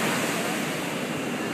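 Ocean surf waves at sunset, a broad continuous wash of breaking water with wind, loud and unbroken for a brief moment.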